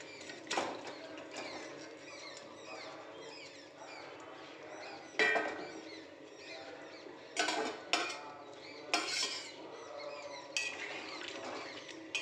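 A ladle stirs a pot of shankar fish curry with potatoes. Sharp metallic clinks and scrapes come at irregular intervals over a quiet background hum.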